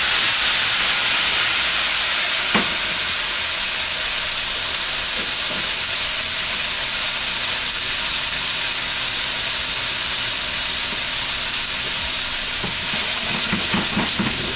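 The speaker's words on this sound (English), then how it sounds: "Get that nice sizzle, nice loud sizzle." Corn sizzles in hot, lightly smoking oil in a pan, a loud, steady hiss that fills the whole stretch, with a few faint clicks and pops and no talking.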